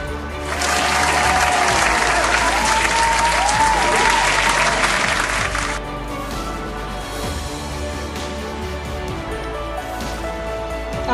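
Audience applause for an award presentation on stage at the Bangapurush Samman 2024 ceremony, loud and sustained for about five seconds, then fading into softer clapping and room murmur.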